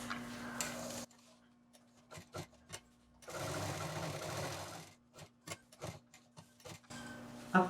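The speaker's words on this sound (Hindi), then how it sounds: "अब इस लाइन के किनारे किनारे हमें सिलाई करनी है।" A sewing machine stitches cloth along a pinned seam for a three-pocket shoulder bag, running in a long steady burst between short ticking stop-start runs and single stitches, close and fairly loud with no talking.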